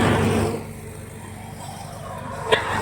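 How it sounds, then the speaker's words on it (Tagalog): Traffic rumble with truck engines passing along a roadside, loudest in the first half-second, then a steady low drone, with a brief sharp knock near the end. "Ang ingay ng mga truck."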